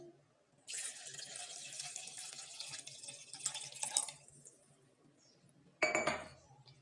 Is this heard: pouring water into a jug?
yes